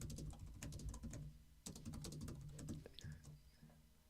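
Quiet, rapid keystrokes on a computer keyboard as a reply to a comment is typed, coming in irregular bursts with brief pauses and a faint bird call in the background.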